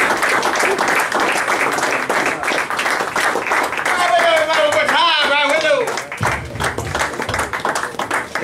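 A comedy club audience at an open mic night claps, steady broadband patter lasting several seconds with a voice talking over it from start to finish.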